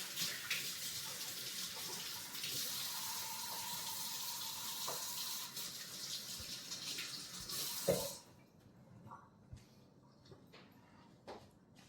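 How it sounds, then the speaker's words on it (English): Tap water runs steadily into a sink while hands are washed under it, a close hissing gush for about eight seconds before the flow shuts off, followed by faint drips and small knocks. "Wash your hands."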